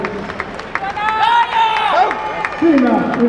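Crowd cheering and clapping at a Finnish men's log press championship in a Raisio shopping centre, a lively burst of applause and shouts with voices mixed through the noise.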